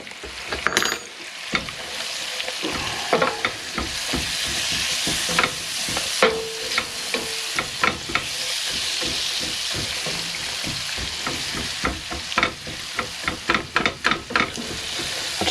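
Spices sizzling and frying with ground coriander in a pan in a cabin kitchen, a steady close hiss broken by repeated scraping and tapping stirs, mostly rhythmic toward the end.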